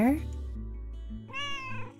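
A cartoonish cat meows in the cosy cat-and-quilt board game Calico, a short bright mew rising over a low synth tone.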